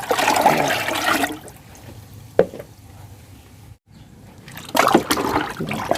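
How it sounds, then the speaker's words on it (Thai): Rice-washing water being poured into a mixture for plants, loud splashing pours at the start and again near the end with quieter trickling between, no talking. "ไม่หมดก็เทใส่ไปเลย นี่น้ำสาบข้าว เทผสมไปเลยนะคะ"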